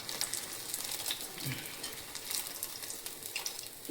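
Banana fritters (ethakkappam) frying in oil, a soft continuous bubbling sizzle at low level with faint crackles and no speech.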